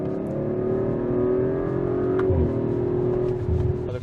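Audi RS5 Sportback V6 engine accelerating, a close, steady mid-pitched growl that climbs smoothly in pitch, briefly dips with a gear change, then pulls on again.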